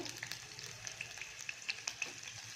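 Green chili and ginger-garlic paste sizzle with onion and bay leaf in a pan, a soft steady frying hiss punctuated by small crisp pops and light stirring.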